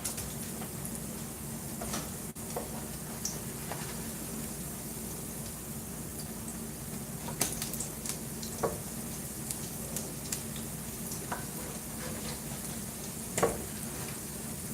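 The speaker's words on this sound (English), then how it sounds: "What I like to do is I like to kind of tilt the pan to where the oil goes away from where I'm going to flip, and then I just flip." Cornbread frying in oil in a pan just after being flipped, a steady soft sizzle throughout with occasional small pops and spatters, heard alone without talk.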